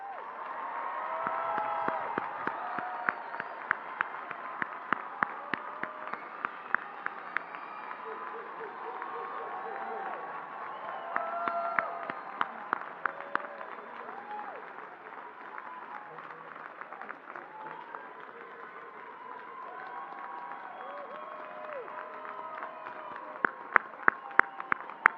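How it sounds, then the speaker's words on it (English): Sustained applause and cheering from a large crowd at a 2023 college commencement ceremony, steady clapping with scattered whoops and sharper claps throughout, continuing evenly from start to finish. "please stand and turn and face the audience and our guests for one last round of applause"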